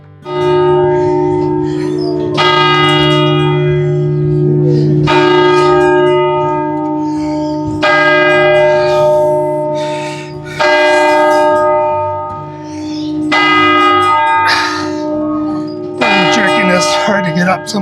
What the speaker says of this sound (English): And I want to catch the bell ringing.